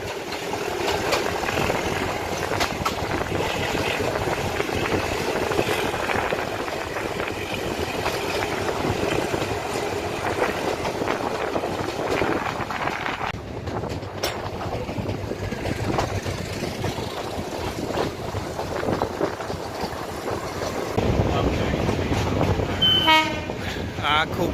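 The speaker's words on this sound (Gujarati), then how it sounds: "હવે ટ્રેન ગીરના જંગલમાં આવી ગઈ છે અંદર" A train running from Junagadh to Sasan Gir through the dense Gir forest, a continuous rumbling rattle of wagons on the rails with a short horn blast near the end and occasional voices inside the carriage.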